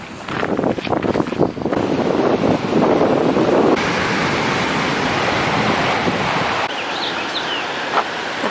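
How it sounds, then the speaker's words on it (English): Steady rush of ocean surf and wind in San Francisco across the whole stretch, dense and close, with a few faint bird chirps near the end. "Birds, the sound of the waves"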